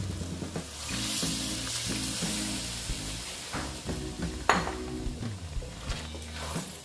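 Potato and soybean curry bubbling in a pot after water is poured in, with a steady sizzle and simmer and occasional utensil clinks, moderately loud and continuous.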